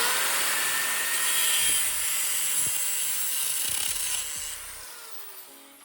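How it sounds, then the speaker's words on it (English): Steady grinding on a metal mounting bracket for an EJ mod, a loud continuous hiss of abrasive on metal that eases off toward the end, with a few brief knocks underneath and no talking. "I'm gonna grind this down to where I can mount it like this way on here."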